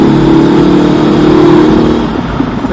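A 2019 Honda CB500X motorcycle fitted with a Mivv exhaust revs loudly and steadily, its engine note holding a sustained drone before easing slightly near the end, with no talking.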